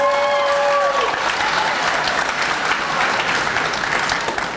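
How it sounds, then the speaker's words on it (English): An audience at a high school commencement applauds, dense, loud clapping with a few cheers that swells at once and holds steady for several seconds. "A round of applause."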